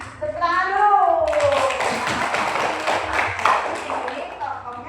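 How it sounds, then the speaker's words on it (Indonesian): A group of children in a classroom claps together in a quick, loud burst after a teacher's sliding-pitch voice. The clapping carries on as rapid patter with voices over it. "Jadi tepuk dulu"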